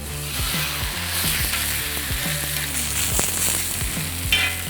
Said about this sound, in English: Let's put it on the grill.